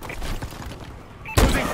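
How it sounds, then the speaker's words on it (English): A heavy explosion from an enemy bombing run in Call of Duty Advanced Warfare booms in suddenly near the end, following a stretch of distant thumps and gunfire. "Enemy bombing run overhead."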